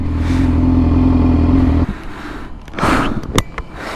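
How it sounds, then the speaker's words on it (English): Yamaha R6 sport bike fitted with a very loud aftermarket exhaust, holding a steady, deep roaring rev for about two seconds before cutting off, followed by quieter mechanical blips and a sharp short burst. "Do a quick little rev."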